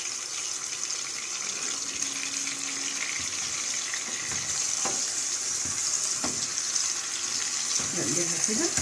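Chicken liver frying in oil in a pan, a steady broadband sizzle and hiss throughout, close and moderately loud, with a few brief clicks and a faint voice near the end.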